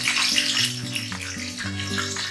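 Two spoonfuls of whole cumin seeds sizzle in hot oil, with bay leaves and green chillies already in the pan, giving a steady, close hiss and crackle that sounds almost watery.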